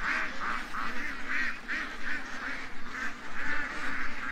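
A flock of ducks and geese quack and honk steadily on a stream in the morning, a dense overlapping chorus of repeated calls at moderate distance, with no talk.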